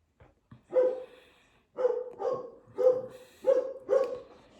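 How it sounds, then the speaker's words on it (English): A dog barks outside, a series of six sharp, evenly spaced barks after a couple of faint yips, moderately loud and somewhat distant with quiet gaps between. "Apologize for my dog barking out there if you can hear it."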